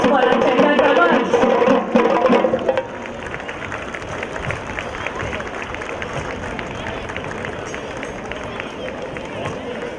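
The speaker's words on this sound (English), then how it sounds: "Special round of applause for our Chenda drummers." Applause at a school inter-house athletics meet for Chenda drummers: a crowd claps and murmurs steadily in an open space after a brief burst of louder sound, with voices mingled throughout.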